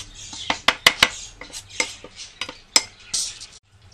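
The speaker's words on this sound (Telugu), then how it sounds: "నువ్వుల నూనె అంతా కుంకుమలో మిక్స్ అయ్యేలాగా నేను మిక్స్ చేసేస్తాను కంప్లీట్గా." Homemade kumkuma powder mixed with sesame oil, stirred in a metal vessel: irregular scraping and sharp metallic clinks of a spoon against the container, close and moderately loud, no voices.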